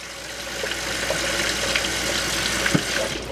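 Water runs steadily through a fruit and vegetable washer bowl, a continuous faint rushing stream close by with a few small splashes and no talking.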